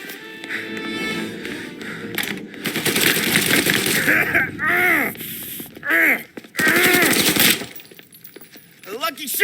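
Gunfire in the video game Mafia: Definitive Edition, rapid loud bursts of shots with breaking, crashing impacts, close and intense, interrupted by brief gaps and mixed with grunts and voices.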